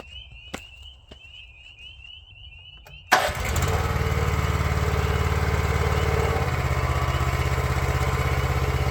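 The engine of a Wolfe Ridge 28-ProX log splitter, already warmed up, catches after a few quiet seconds of faint background sound and then runs at a loud, steady, even drone.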